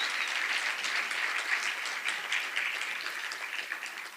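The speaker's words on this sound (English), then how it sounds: "Let's give them a big round of applause." A crowd at an awards event honoring volunteer activists breaks into sustained applause, a steady, even hiss of many hands clapping at a moderate distance that runs unbroken throughout.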